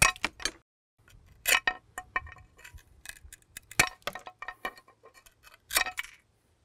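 An old ceramic tile snaps along its score line under pliers, heard as a series of sharp cracks and clinks in quick, irregular bursts, with quiet gaps between them.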